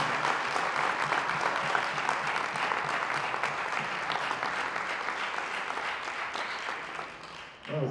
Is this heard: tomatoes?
no